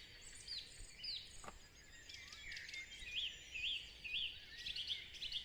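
Birds sing outdoors in a quiet natural setting, with repeated high, whistled and chirping phrases at a moderate distance over a faint background hush.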